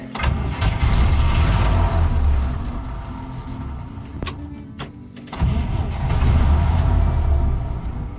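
A UAZ engine is hand-cranked with a starting handle after a fuel pump replacement, rumbling into life, dying away midway, then catching and running loudly again.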